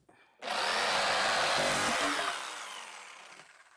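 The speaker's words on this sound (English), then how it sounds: "I'll drill out this" A power drill bores out a part on a DIY solar generator build, a loud steady whine starting abruptly and running about two seconds before slowly winding down to quiet.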